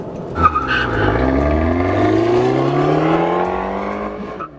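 A 2012 Fiat 500 Abarth races past on the main straightaway at Michigan International Speedway, engine revving through rising gears with a brief tire squeal near the start, loud and close.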